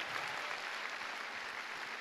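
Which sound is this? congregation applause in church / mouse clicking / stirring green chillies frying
congregation applause in church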